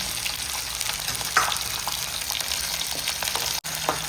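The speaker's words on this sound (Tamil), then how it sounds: "வெங்காயம், பூண்டு வதங்கிட்டு எடுத்துக்கணும்" Onion and garlic sauté in a pan with a continuous close sizzle, marked by a few spatula knocks and a brief sharp dropout near the end, no one speaking.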